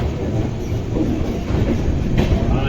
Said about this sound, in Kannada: ಟ್ರೈನಿನ ಪ್ಲಾಟ್ಫಾರ್ಮ್ ದಾಟೇ ಇಲ್ಲ, ಸ್ಟೇಷನ್ ದಾಟೇ ಇಲ್ಲ. ಆಗ ಸ್ಪೀಡ್ ತೊಗೊಂಬಿಟ್ಟ.